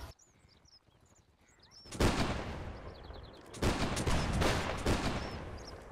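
Musket line volley fire in the battle game Mount and Blade Warband: quiet birdsong gives way to a sudden loud crackling volley, a brief lull, then a second sustained ragged burst of many overlapping shots, no talk.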